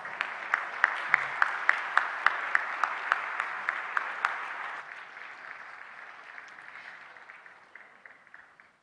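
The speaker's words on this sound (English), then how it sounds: "A round of applause." A crowd applauds at a World Press Freedom Day 2018 closing ceremony in Jakarta, starting with loud, evenly spaced claps up close that soften into a steadier, quieter patter of clapping.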